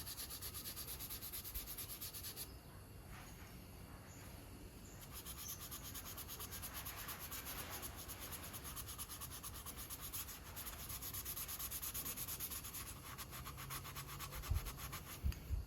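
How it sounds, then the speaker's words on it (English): A tarnished KTM 300 carburetor float bowl is scuffed by hand with a Scotch-Brite pad, giving a steady close-up abrasive rubbing that continues without a break, with a couple of small knocks near the end. "I would love to take this Scotch-Brite to it and just give it a bit of scuff."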